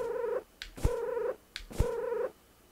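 A cat in a video game meows in a repeated pattern, three drawn-out tonal calls separated by short pauses, with a purring rumble at the start of each, close and clear with no talking.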